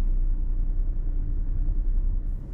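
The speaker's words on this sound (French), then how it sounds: "la voiture démarre." Manual car pulling away as the clutch engages, a low steady engine rumble close by with no other sounds over it.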